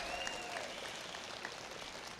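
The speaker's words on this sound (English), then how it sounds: "we would like to applaud you" Applause from an audience at a nursing pinning ceremony, a soft, steady patter of many hands clapping at a distance, with a faint whistle-like tone drifting over it.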